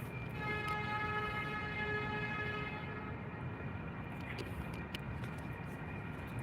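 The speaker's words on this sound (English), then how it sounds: "if you hear honking, that's the trains." A train horn sounds in the distance as a steady sustained tone over a heavy rumble of rail traffic, then fades while the low noise continues.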